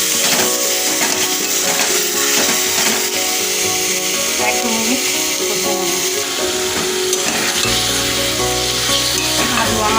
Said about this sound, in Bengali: আলু আমার কষানো হচ্ছে